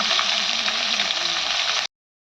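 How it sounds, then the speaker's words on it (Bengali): Bhola fish fries in a pan with a bright, steady hiss of sizzling oil at close range that stops suddenly. "তো ভোলা মাছ ভাজা হচ্ছে"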